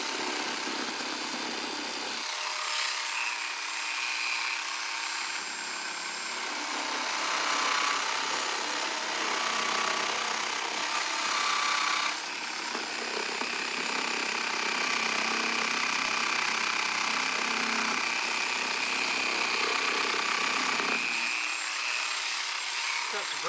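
A Dremel MS400 jigsaw attachment on a rotary tool runs through a long stretch as a steady high-pitched motor whine with cutting noise, starting and stopping near each end, close and loud throughout.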